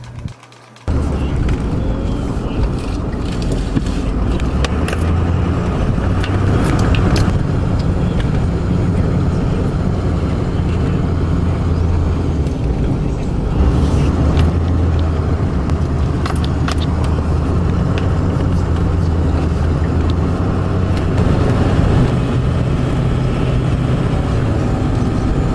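A truck driving a loop, with a continuous engine and road rumble, close and fairly loud, with occasional rattles and bumps over the ride after a brief quiet start; no clear speech.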